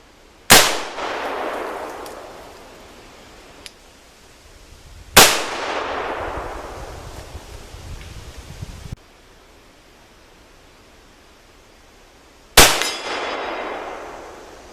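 Three loud, sharp reports from a Colt 1847 Walker black-powder revolver fired outdoors, spaced several seconds apart, each ringing out with a long decaying echo.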